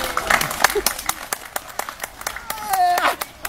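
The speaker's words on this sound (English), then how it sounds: "that's clapping to get the thing up here." Sharp hand claps ring out in an irregular series, loud and close, meant to draw a large crocodile up toward its caretaker, with voices talking between and over them.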